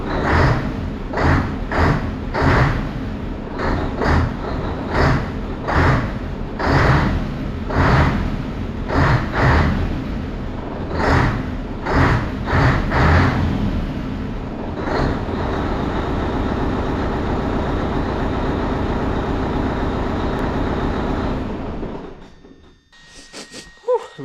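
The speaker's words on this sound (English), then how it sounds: "let's give it a wee rev, a wee tickle, see how it" A classic Scania 143 V8 lorry engine, warmed up, revs in a series of short, loud blips, then holds a steady high rev for several seconds before dropping back to idle.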